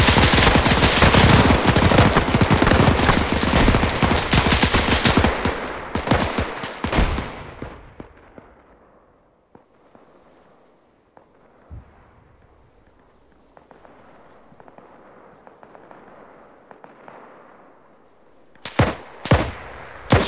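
Heavy, sustained automatic gunfire rattles loudly in a WW2 video game battle, breaking off into scattered shots and quieter ambience before a final few close bursts.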